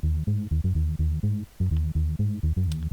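A self-made tech house bass line layered over a sampled bass, heard as choppy, tonal low notes repeating in a quick bouncing rhythm, loud and unaccompanied by speech, with one short gap midway.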